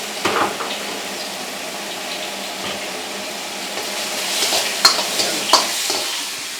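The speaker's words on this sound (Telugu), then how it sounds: "సో ఇవన్నీ కూడా వితిన్ సెకండ్స్లో ఫ్రై అయిపోతున్నాయి" Ingredients for a Korean corn cheese dog frying in oil at a vegetarian cafe, a continuous close sizzle with occasional clinks and scrapes of utensils.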